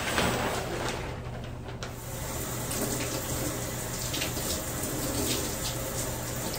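A water tap runs steadily into a sink as hair dye is rinsed out, a close, continuous gush with slight shifts as the flow is broken up.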